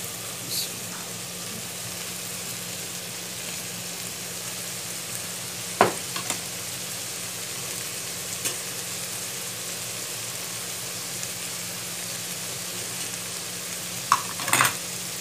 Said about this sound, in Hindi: अब ये हमारे सब्ज़ी में थोड़ी सी फ्राई हो गई हैं।